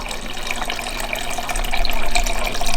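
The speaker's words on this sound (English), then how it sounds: "we want to run some water through that filter just to make sure it's nice and ready" Water runs steadily from a refrigerator water filter dispenser into a cup, an LG-compatible replacement cartridge being flushed, a continuous close splashing stream that grows slightly louder toward the end.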